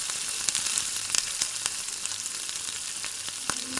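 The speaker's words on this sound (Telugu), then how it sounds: "వేడయ్యాక కొంచెం ఆయిల్ వేసుకొని మనం అప్లై చేసిన పీసుల్ని ఒక్కొక్కటి నెమ్మదిగా పైన వేసుకోవాలి" Fish pieces fry in hot oil in a pan, making a constant hiss speckled with sharp crackles and spitting pops, close and moderately loud.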